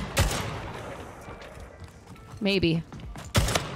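Shotgun blasts in Splitgate, two or three sharp, punchy shots spaced apart over game sounds, with a person speaking briefly between them.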